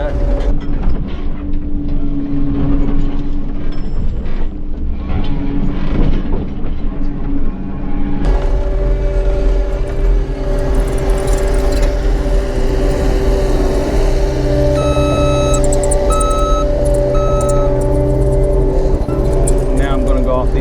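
A CAT 285 compact track loader with redesigned undercarriage and suspension driving over offset bumps: loud, steady diesel engine drone with hydraulic whine, shifting pitch midway as it climbs, plus intermittent clanks and rattles of tracks, and talk over it.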